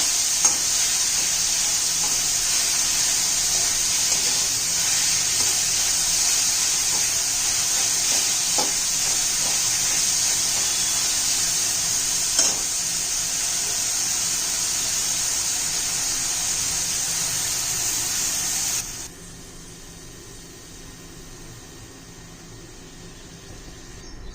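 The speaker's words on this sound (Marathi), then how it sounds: "टोमॅटोही चांगला मऊसर शिजून घ्यायचा" Tomato softening in a hot pan for a cauliflower curry, a strong steady sizzle with occasional stirring scrapes, dropping abruptly to quiet near the end.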